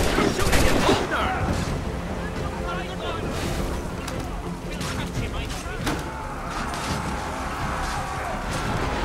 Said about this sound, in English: You're shooting at Holder!